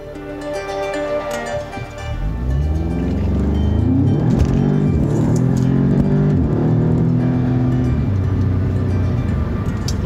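An Audi S3 with Haldex all-wheel drive launches from a hard start in sport mode with traction control off, its engine rising from a low idle into a loud, sustained climbing rev that holds, then eases slightly.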